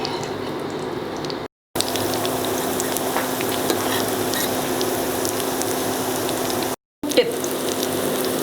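Mackerel fish cutlets frying in oil in a pan on an induction cooker, a steady close sizzle with two brief silent gaps and no voices.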